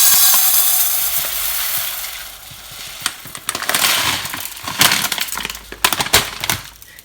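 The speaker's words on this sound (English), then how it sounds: "you can just put it in the pan and fry it" Pre-bought rice frying in a pan, with a steady sizzle and bursts of scraping and stirring clatter that come and go. The sound is close and fairly loud.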